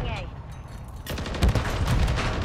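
Call of Duty: Modern Warfare 3 ranked match gunfire, a burst of close shots crackling in after a quiet start and continuing through the second half, with game background noise and a player's voice talking over it.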